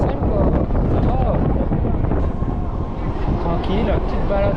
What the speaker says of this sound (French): le vent il est froid en haut